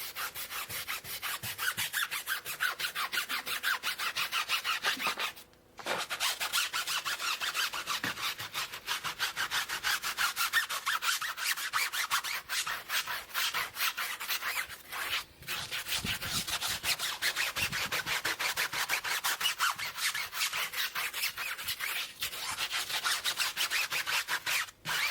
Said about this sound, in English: Firstly, the tyres are scrubbed with a stiff brush.